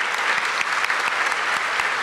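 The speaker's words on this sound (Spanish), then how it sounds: "les demos todos un fuerte aplauso" Audience at a government ceremony applauding steadily, a dense, even patter of many hands clapping at moderate volume throughout.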